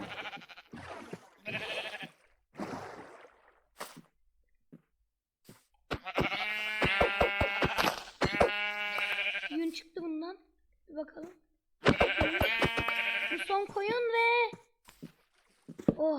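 Sheep bleating in the video game Minecraft, several wavering bleats in separate bursts, interleaved with a child-like voice talking and light footsteps.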